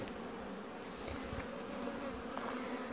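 Honeybees drone steadily around an open hive while frames are checked for brood and honey, a dense, continuous buzz close by that holds at an even loudness throughout, with no talk.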